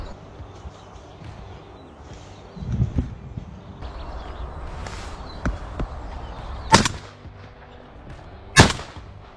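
Shotgun blasts ring out during a crow hunt meant to protect crops, with two sharp loud reports several seconds apart and a fainter shot earlier, over outdoor background noise with some rustling.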